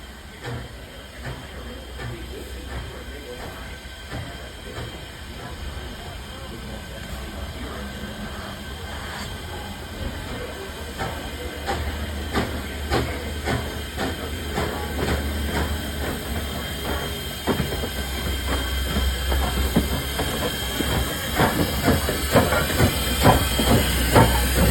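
A Strasburg Rail Road steam locomotive breathes with a constant hiss of escaping steam beneath a low engine rumble, the sound gradually building in loudness as the engine runs around its train at the end of the line.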